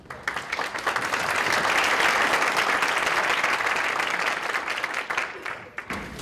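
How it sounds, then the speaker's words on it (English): A meeting audience at a healthcare task force gathering in Rome, Georgia breaks into warm applause, loud, full clapping that swells within the first second, holds steady and tapers into a few scattered claps at the end. "Let's give him a warm round of applause."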